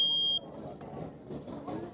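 A household smoke detector sounds a piercing high electronic tone for a fraction of a second, then cuts off, leaving a quiet room murmur with faint voices.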